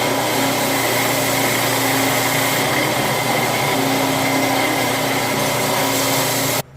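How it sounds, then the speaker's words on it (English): Dull hole saw drilling through metal for a chain guide on a 1982 Suzuki RM465, a loud continuous whining grind with steady pitch that stops abruptly at the end, no talk. "drilling it with my hole saw, that was dull."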